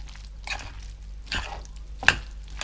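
Russian salad with surimi being mixed with mayonnaise, three soft wet squishing strokes in a slow rhythm with a small clink, close and quiet.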